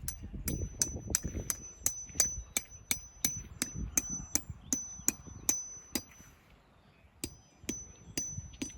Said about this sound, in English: make it cozy for us by hammering in the guy wires